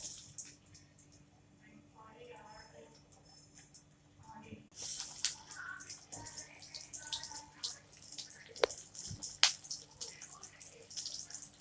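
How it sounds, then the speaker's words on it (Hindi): Shami kebab patties of beef drop into very hot oil for deep frying, a sudden loud sizzling hiss that bursts in midway and keeps crackling and popping, after a quieter stretch with someone speaking. "ऑयल तेज़ गरम होना चाहिए, उसके अंदर मैं डीप फ्राई करती हूँ।"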